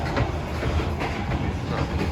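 An old passenger train runs on the rails, heard from inside a carriage as a steady low rumble with faint rhythmic clatter.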